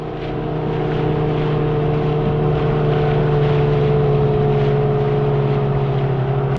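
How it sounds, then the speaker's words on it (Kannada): Speedboat towing a banana boat ride, its engine droning steadily and loudly throughout with wind noise and no talking. "4 ಜನ ಬನಾನಾ ರೈಡಲ್ಲಿ ಹೋಗೋದೇ ಮಜಾ."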